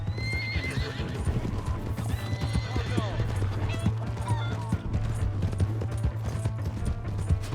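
In Red Dead Redemption 2, hooves clip-clop in a steady galloping rhythm while a horse neighs loudly, with shouting voices and game sound effects layered over it.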